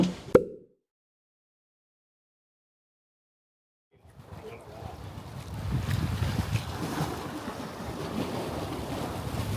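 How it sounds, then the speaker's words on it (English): A Volvo Penta D275 diesel marine engine on a sailboat starts up after a brief knock and a few seconds of silence, then settles into a steady low rumble that runs continuously to the end, with wind noise on the microphone. "This Volvo Penta D275. Back in action, y'all."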